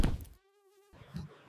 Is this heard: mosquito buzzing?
yes